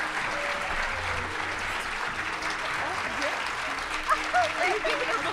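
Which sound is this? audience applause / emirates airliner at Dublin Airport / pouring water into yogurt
audience applause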